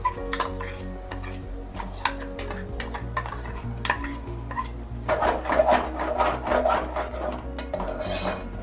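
Gongura paste is stirred into a soya-chunk curry in a pan, giving continuous scraping and clinking of a spoon against metal. The strokes grow more vigorous and louder in the second half, and there is no talking.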